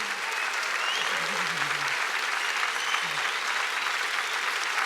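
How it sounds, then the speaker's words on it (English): A large convention audience applauds Buzz Aldrin, a loud, steady roar of clapping that holds at the same level throughout, with a voice briefly audible underneath at the start. "Can everyone give a huge round of applause for an American hero, Dr. Buzz Aldrin?"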